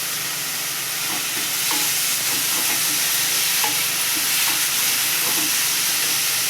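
Sweet modak filling with cashews, almonds and cardamom being sautéed in a pan, a steady soft sizzle with light intermittent stirring scrapes, close and continuous.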